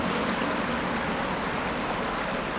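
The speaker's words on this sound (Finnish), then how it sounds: "Virtaava vesi." A river flows in a steady, continuous rush of water, close and fairly loud, broadband and unbroken throughout with no voices.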